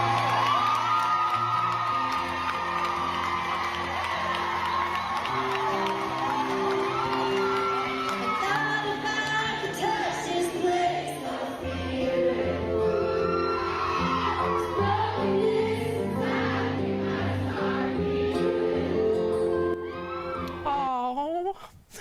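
A concert crowd cheers, whoops and shouts at a country singer's first show in front of an audience since the pandemic, with music underneath and excited voices rising and falling for the whole stretch, loud and close.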